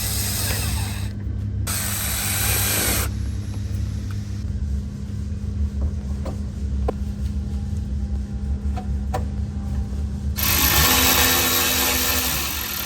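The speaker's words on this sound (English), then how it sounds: "Torquing in some remaining screws." A ratchet tightens screws on a car's taillight assembly while an engine idles steadily in the background. Quick clicking bursts come at the start and again near the end, with a few isolated ticks in between.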